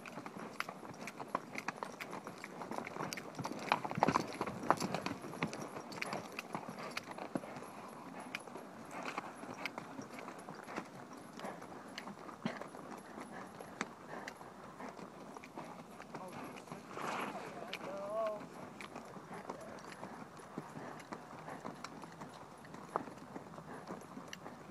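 A shod horse's hooves clip-clop steadily as it is ridden uphill, the rhythmic footfalls close by beneath the rider's occasional talk.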